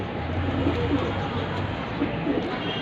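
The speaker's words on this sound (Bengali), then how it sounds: "it's a beautiful pigeon" An army running pair of pigeons coos softly at close range, with several low, rolling coos repeating over a steady background hum.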